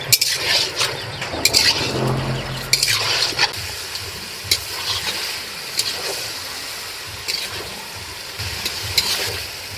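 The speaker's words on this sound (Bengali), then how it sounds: "আমি ধিমিয়ে আছি মাংসটা আস্তে আস্তে কষিয়ে নেবো" Large Patnai chicken meat slowly sautéed over low heat in a pan, with repeated close scraping and stirring strokes at an uneven rhythm over a soft, steady frying sizzle.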